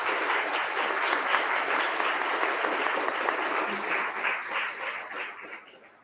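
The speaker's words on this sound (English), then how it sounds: "Let's give them another round of applause, shall we?" Audience at a public forum applauds guest speakers with a steady, dense round of clapping that fades out near the end.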